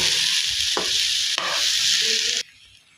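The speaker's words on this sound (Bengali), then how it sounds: "আমি এখানে চালগুলো দিয়ে দিয়েছি। এবার হালকা নেড়ে চেড়ে ভেজে নেব।" Rice fries in a pan for Chinese fried rice, a loud, dense sizzle broken by a couple of scrapes as it is stirred, ending abruptly in near quiet.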